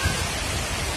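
Heavy morning rain falls on a rooftop, a dense, loud, steady wash of noise with no gaps over the brief moment.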